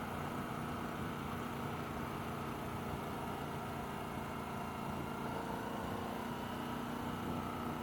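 A Harley-Davidson Sportster S motorcycle engine runs with a steady, even rumble at constant level throughout, no revving or change in pace, heard close and moderately loud.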